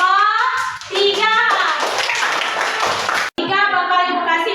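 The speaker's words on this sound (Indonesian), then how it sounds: "Tepuk tangan untuk kelompok" Children clap in a classroom, a burst of quick hand claps lasting a few seconds, with young voices and an adult's speech before and after it.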